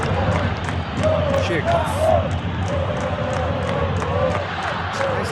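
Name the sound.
football stadium crowd reacting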